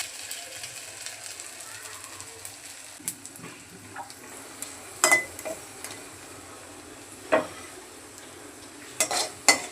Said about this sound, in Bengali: এখন ভেন্ডির বড়াগুলো বানিয়ে নেব।